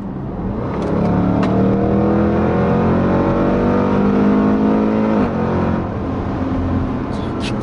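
A Range Rover Sport SVR super SUV kicks down, its engine roaring loudly as the revs sweep upward for several seconds. It snaps into the next gear partway through and keeps pulling, heard from inside the cabin.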